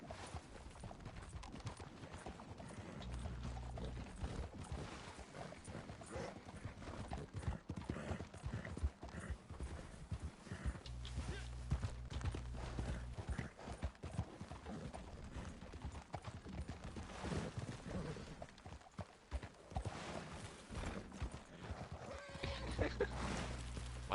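Horse hooves gallop in Red Dead Redemption 2 Online, a fast, continuous clip-clop rhythm that runs for the whole stretch, with faint voices in the background.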